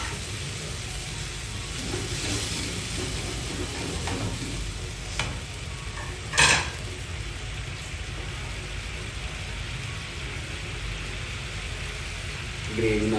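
Chicken gravy with chilli powder and a splash of water fries in a pan, a constant sizzle broken by a few stirring scrapes and one sharp clatter midway.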